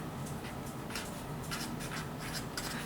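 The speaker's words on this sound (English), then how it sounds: "So I'm going to go ahead and write that on my paper." A pencil scratching a measurement onto paper, quick short scribbling strokes repeating close up with no one talking.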